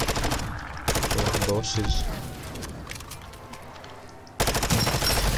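Rapid SMG gunfire in MW3 Zombies, loud bursts at the start and end with quieter game sounds and talking between them.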